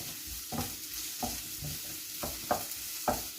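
Food with garlic being stirred in a pan gives soft, close sizzling under a series of distinct scrapes and taps, roughly five strokes in a few seconds, with no voices.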